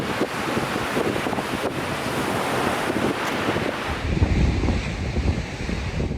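Surf rolling onto Pacifica beach in the Bay Area on a sunny weekend, a steady, loud wash of breaking waves with wind buffeting the microphone and growing rumble toward the end, no voices.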